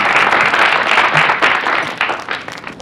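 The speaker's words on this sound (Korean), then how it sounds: "다시 한번 큰 박수를 부탁드립니다" An audience applauds after a lecture on filial piety and Korean culture, a dense burst of many hands clapping at close range that stays steady and then thins toward the end, with no talk over it.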